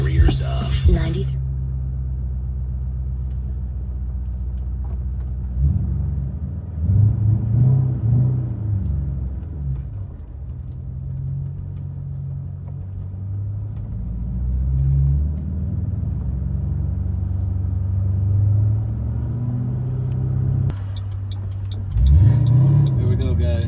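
A car engine revving and dropping as gears are power shifted, with low rising and falling engine rumble in repeated surges, heard from inside the car, with a person speaking over parts of it.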